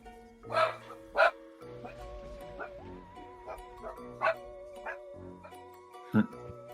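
A dog barks in short, sharp bursts at a distance, with a few yips between, while a faint tone hums underneath.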